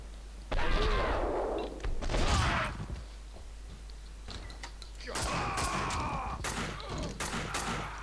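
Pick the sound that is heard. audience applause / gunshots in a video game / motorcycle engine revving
gunshots in a video game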